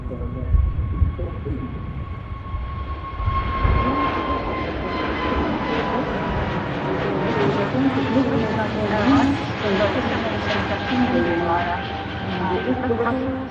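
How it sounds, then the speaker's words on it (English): A British Airways airliner heading to London Heathrow from Manchester Airport, its loud engine roar swelling and sustained as it passes, with people talking over it. "British Airways heading back down to London Heathrow."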